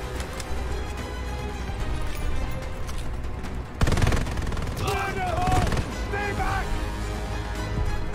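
Gunfire in the Call of Duty: Vanguard D-Day beach mission, including Kar 98 rifle shots, with a sharp blast partway through and crackling battle noise around it, heard amid steady background combat ambience.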